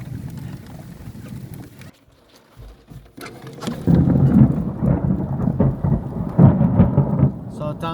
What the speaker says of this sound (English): Wow, it's wind and thunder.